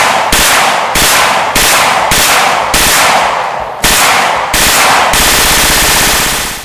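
Heckler & Koch UMP-45 submachine gun firing in loud, close bursts of rapid automatic fire, several separate volleys broken by very short gaps, with no voices.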